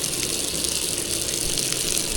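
Water splashing and gushing as a woman bathes outdoors beside a rural road in a southern Laos valley village, a continuous loud wash of running water with no pauses.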